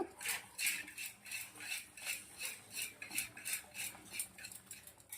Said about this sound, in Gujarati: દહીં અને ભાતને સરસ આવી રીતે મિક્સ કરી દેવાના છે